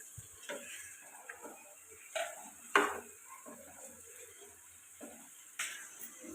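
Mutton liver with ginger paste sizzles and fries in a pan, with a few sharp scrapes and clinks of a spoon stirring at intervals over a steady low hiss.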